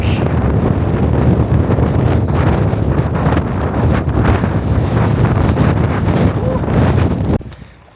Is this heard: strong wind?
yes